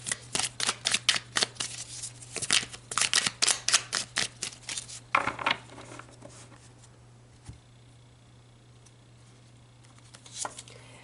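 Tarot cards are shuffled by hand in a rapid series of crisp riffling flutters for about five seconds, then a few isolated soft card taps, close up over a faint background hum.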